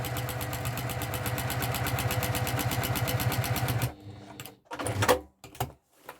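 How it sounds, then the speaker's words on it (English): A sewing machine fitted with a walking foot stitches quilting lines on a patchwork piece, a loud, steady, rapid mechanical chatter that runs for about four seconds, then stops and gives way to a few clunks and handling knocks. "So now I'm going to do 2 lines either side going down"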